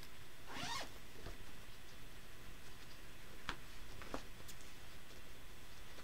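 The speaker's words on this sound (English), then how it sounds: "didn't quite unzip it far enough" A zipper is pulled open in one quick, close rasp near the start, then a few faint ticks and clicks follow against a quiet background.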